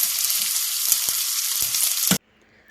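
Rice sautés in a hot pan with a loud, continuous sizzle and scraping stirring sounds, frying steadily before cutting off abruptly into near silence.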